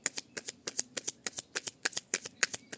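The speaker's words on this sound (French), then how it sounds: "On va tirer 5 cartes." Tarot cards shuffled by hand for a card draw, a quick run of about twenty crisp riffling snaps in an uneven rhythm, close and fairly quiet.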